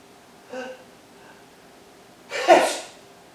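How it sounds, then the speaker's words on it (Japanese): A single loud sneeze bursts out while the person stands with a hand pressed against a wall, preceded by a short inhale and quiet breathing. "では壁ドンくしゃみをやってもらいましょう。"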